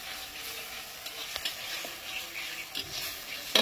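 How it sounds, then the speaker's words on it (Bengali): Spice masala and tomato sautéing in oil for Kashmiri aloo dum, a soft steady sizzle with occasional stirring scrapes and clinks, faint and close, with no talking. "মশলাটা ততক্ষণ কষাতে হবে যতক্ষণ না টমেটোটা পুরো এরকম ভাবে মিশে যাচ্ছে আর তেল না ছাড়ছে"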